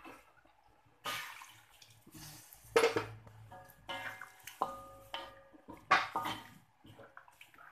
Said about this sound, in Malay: Masukkan air sedikit.